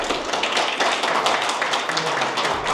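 Audience applause at a business launch event in Brisbane, a dense, steady patter of many hands clapping throughout at an even level.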